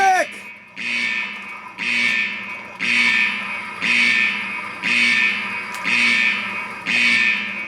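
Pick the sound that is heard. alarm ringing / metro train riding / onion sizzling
alarm ringing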